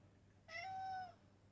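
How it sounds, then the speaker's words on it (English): A cat gives a single drawn-out meow, faint and alone, against a quiet indoor background. "Oh, the cat's saying hi as well."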